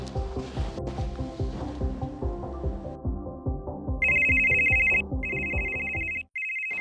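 A telephone's electronic ringtone chirps in repeated bursts, loud and close, cutting in after a stretch of rhythmic background music and ending abruptly.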